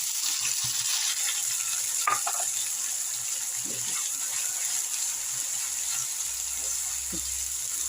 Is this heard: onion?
yes